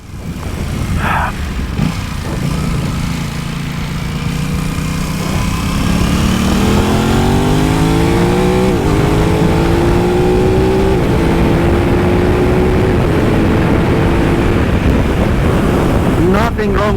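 An Aprilia RS660 sport motorcycle at speed, its engine note rising steadily through the revs before a quick gear change drops the pitch, all under heavy rushing wind noise.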